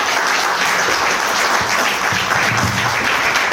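Audience of doctors at a medical association presidential candidates' forum applauds the five candidates, a loud, dense wash of clapping sustained throughout without speech.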